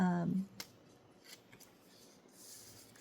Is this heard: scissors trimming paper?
yes